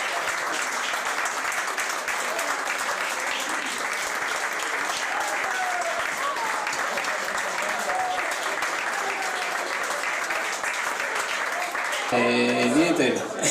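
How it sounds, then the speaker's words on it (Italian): Steady crowd applause at an Italian village festival in Avian, sustained and dense throughout, with a brief musical or voice burst near the end. "un applauso ancora"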